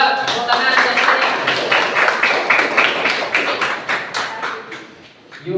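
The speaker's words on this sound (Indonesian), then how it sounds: "Oke, yuk tepuk tangan." A school classroom during an English lesson breaks into steady clapping from a group of students, a dense run of claps lasting several seconds before fading near the end.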